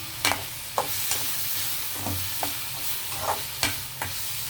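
Vegetables for an egg roll stir-fry in a pan with black pepper powder, a quiet sizzle broken by sharp, irregular spatula taps and scrapes, close and without talk.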